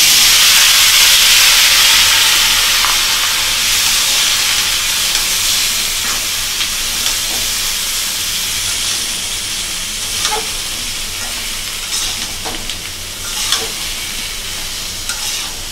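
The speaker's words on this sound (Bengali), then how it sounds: "এখন পটলগুলো ভাজবো আর আলু।" Pointed gourd and potatoes frying in a pan for a rohu fish curry, a strong hissing sizzle that eases slightly over time, punctuated by light utensil clicks from stirring.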